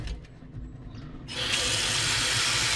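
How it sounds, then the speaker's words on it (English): Cold water gushes from a kitchen tap into a cooking pot, starting with a sudden loud rush after a moment of quiet handling noise and continuing as a steady, close hiss. "I'm gonna fill it with some cold water."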